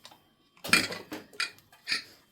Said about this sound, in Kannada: ಈಗ ವೆಯ್ಟ್ ಹೋಗಿದೆ, ಕುಕ್ಕರ್ ತೆಗಿತಾ ಇದ್ದೀವಿ.